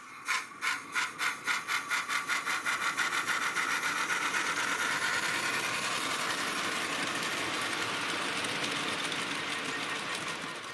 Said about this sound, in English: let's run the locomotive and see that it goes on the right